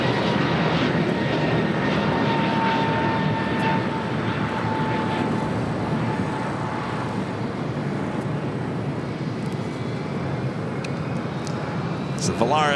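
An Airbus A320 jet airliner taxis at LAX airport, a loud continuous engine roar with a steady whine that holds throughout, close by and alone without talk.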